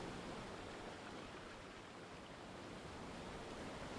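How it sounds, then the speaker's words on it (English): Loud, steady roar of ocean waves washing onto a shore in a video game, a continuous broadband surf wash filling the whole stretch with no talk. "I forgot there's waves and I've forgotten how loud they sound."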